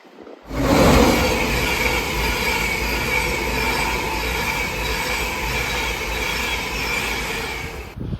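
A train rumbles through Peterborough railway station on a windy day, loud and sustained, with metallic screeching and rolling wheel noise, starting abruptly and cutting off at the end.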